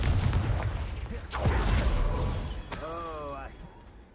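A Confringo fire-blast spell in Hogwarts Legacy bursts with a loud, low explosive boom and a shattering crackle that rolls off over a few seconds, followed by a brief voiced exclamation.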